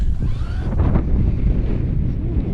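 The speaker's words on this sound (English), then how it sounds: "What a windy day it is." Steady low rumbling buffets of wind striking the microphone, loud and continuous throughout with no voices.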